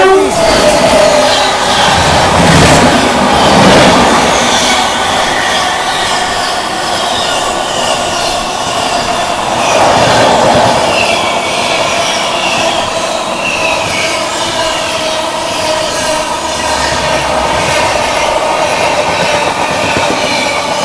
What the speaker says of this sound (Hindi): पीछे से आ रही है नई दिल्ली से चलकर दरभंगा की ओर जाने वाली बिहार संपर्क क्रांति सुपरफास्ट एक्सप्रेस।